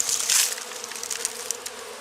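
Honey bees buzzing steadily inside an opened hive during an inspection, a close, continuous drone that swells briefly at the start, with no talking.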